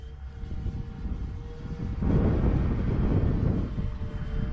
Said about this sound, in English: those props are awfully noisy